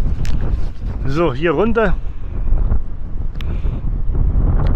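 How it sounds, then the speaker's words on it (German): Strong, gusty wind buffets the microphone on the coast by the Maspalomas dunes on Gran Canaria, a continuous loud rumble throughout, with a person speaking briefly over it. "Wir haben hier richtig schönen, heftigen, kräftigen Wind."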